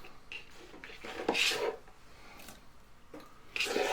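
A knife chops sweet peppers on a board for a vegetable quiche, a few scattered sharp taps and scrapes with quiet gaps between them.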